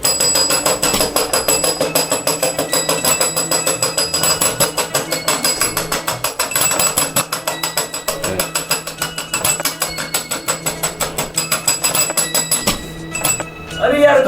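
A bell rings in rapid, continuous repetition for several seconds, bright and persistent, before stopping near the end amid some voices.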